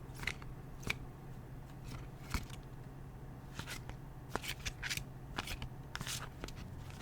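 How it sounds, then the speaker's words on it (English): Tarot cards are softly shuffled up close in a quiet room, with light, crisp ticks and brief riffles scattered irregularly over a low, steady background hum. "Let's shuffle."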